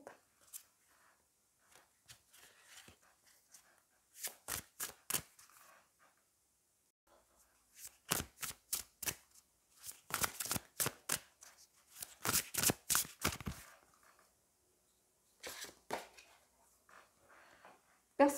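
A crow-themed oracle card deck is shuffled close up. It makes soft, quick flurries of papery riffling in separate bursts, with quiet gaps between them.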